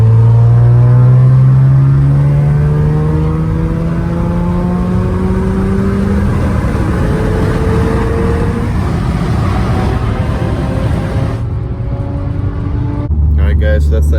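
An Audi S5 with a new crank pulley and heat exchanger accelerates hard in fourth gear from around 2,000 RPM, the engine tone climbing steadily in a loud, close, sustained pull before easing off near the end.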